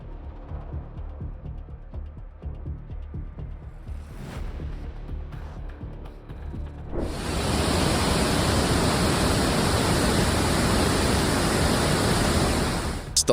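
Heavy downpour lashing Kathmandu and its valley during flooding: a loud, dense, steady roar of rain that swells sharply about halfway through and then holds, with no voices.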